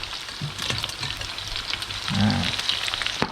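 Legs tipped into a hot pan with turmeric and stir-fried, Thai home cooking; steady close sizzling and frying with scraping stir noises, swelling to a louder hiss burst partway through.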